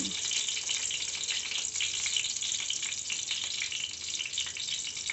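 Fish pieces frying in boiling oil, a dense, steady, crackling sizzle that stays loud and even throughout with no pauses.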